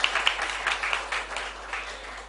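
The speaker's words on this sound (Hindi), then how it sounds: "फिर से मैं एक और बार उनके लिए ताली बजाने की रिक्वेस्ट करती हूँ।" Audience applause for a singer at a music event at the Indian Institute of World Culture, a steady crackle of many hands clapping that carries on without a break, moderately loud and fairly close.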